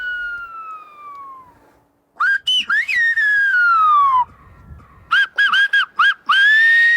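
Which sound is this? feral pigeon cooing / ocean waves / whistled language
whistled language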